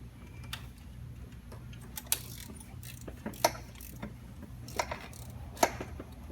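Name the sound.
socket wrench tightening an oil pressure sensor on an Ecotec 2.4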